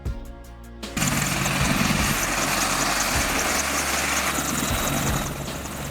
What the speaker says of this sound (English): Military helicopter.